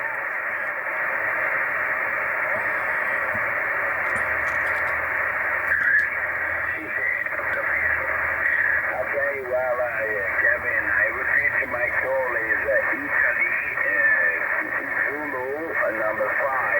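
A shortwave receiver on the 20 m amateur band hisses with steady band noise while a faint, warbling voice from a distant American ham station drifts in and out, growing slightly more distinct in the second half.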